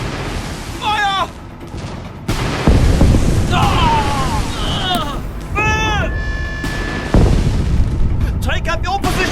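Battle scene explosions and artillery fire in a film, with heavy booms and rumbling blasts throughout, loud and dense, mixed with shouting voices and swelling orchestral music.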